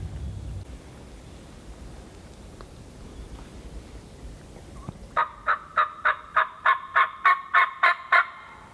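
An Eastern wild turkey in Tennessee gobbles in a rapid series of about ten loud, evenly spaced calls after several seconds of quiet outdoor background.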